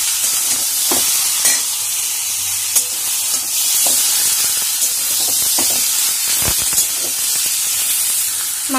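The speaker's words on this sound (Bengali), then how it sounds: "মাংসটা একটু ভেজে নিয়ে" Meat browning in a hot pan for a Bengali red meat curry, a steady close sizzle and hiss with occasional stirring scrapes and spatters throughout, no voices.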